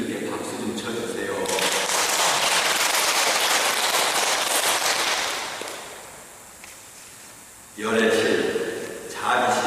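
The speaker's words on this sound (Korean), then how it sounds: "스님들께 박수 좀 쳐주세요." An audience applauding monks at a Buddhist dharma lecture, a dense roar of clapping that swells, then fades, before a voice speaks.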